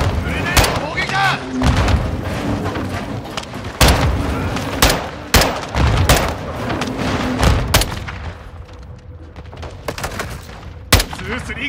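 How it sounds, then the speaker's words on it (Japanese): Grenade attack in Call of Duty Modern Warfare II combat, with sharp explosions and bursts of gunfire cracking at irregular intervals over a rumbling battlefield background, some blasts loud and close, others fainter. "グレネード攻撃だ"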